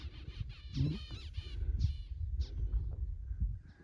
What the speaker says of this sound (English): It's full of zebra finches.